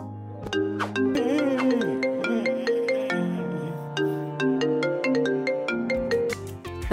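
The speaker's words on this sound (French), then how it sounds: "Annie, décroche ton téléphone" A telephone ringtone plays a bright, repeating electronic melody of plucked chiming notes, loud and steady throughout with no talking.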